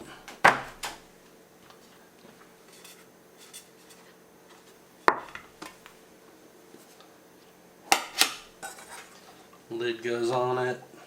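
Metal camp cookware clatters as a kettle from a compact solo kayak-camping cook kit is nested back into its pot, giving a few sharp, close knocks and rattles separated by quiet pauses, then a brief spoken voice at the end.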